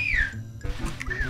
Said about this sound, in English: You keep whistling, and how are you doing that?